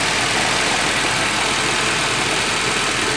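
A factory Nissan KA24DE twin cam engine idles steadily after a cold start, an even, continuous mid-pitched rumble heard up close with no voices.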